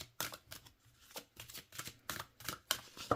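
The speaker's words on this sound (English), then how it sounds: "This is what I love about glossy cardstock, is they just shuffle really smoothly together." Glossy cardstock oracle cards are shuffled by hand close up, giving a quick run of soft, rhythmic swishing flicks, each lasting a fraction of a second.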